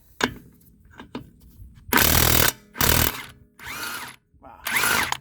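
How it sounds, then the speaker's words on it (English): A Ridgid impact wrench rated at 1500 ft-lbs hammers a nut off a disc wheel in four loud, close bursts of rattling impacts with short pauses between them, after a couple of light clicks. "Take off this nut."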